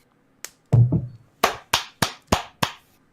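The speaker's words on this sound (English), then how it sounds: "there's a couple claps" A few people clap in a thin, scattered way, about seven separate claps spread over a few seconds, close and dry, with no cheering or voices.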